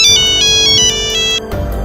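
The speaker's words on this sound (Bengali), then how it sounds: "দেখো তো কে জানি ফোন দিছে, ফোনটা রিসিভ করো।" A mobile phone ringtone for an incoming call, a loud bright electronic melody of rapid repeating tones, close and clear with no talk over it, stopping after about one and a half seconds.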